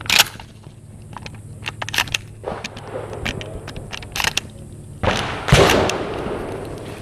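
A Mossberg Shockwave shotgun fires Aguila minishell buckshot at a target about 7 yards away outdoors. A few sharp, cracking reports are spread over several seconds, with quieter rustling and handling noise between them.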